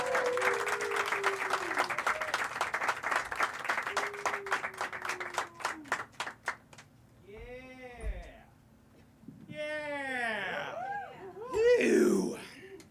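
A comedy club audience applauds and cheers as a comedian is introduced on stage, a dense burst of clapping that thins out within a few seconds. A crowd then laughs and voices react, with a final swell of cheering and noise near the end.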